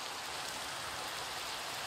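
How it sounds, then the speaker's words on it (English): Rain falling in a video game: a steady, even hiss of rainfall across the short stretch, moderately quiet with no voices. "Of course it's raining."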